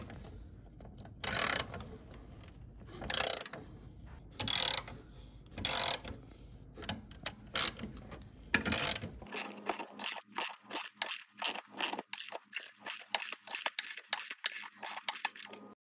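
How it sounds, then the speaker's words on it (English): A round head ratchet works a front bumper bolt on a Toyota Corolla, first in a few separate bursts of clicking, then in a fast, even run of close, sharp clicks as the bolt is turned back and forth. "we used round head ratchet to turn the bolt right and left so that it becomes a little loose"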